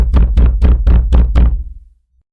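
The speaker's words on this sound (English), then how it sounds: "Faint knocks at the door, deliberate and steady." Six deliberate, evenly spaced knocks land on a door, close and heavy, each ringing briefly before the next, then the room falls silent.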